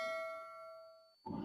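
A phone rings with a single sustained electronic chime that holds for about a second and then stops abruptly, followed by a short burst of rustling noise.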